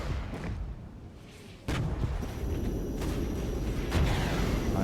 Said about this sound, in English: calling another rocket strike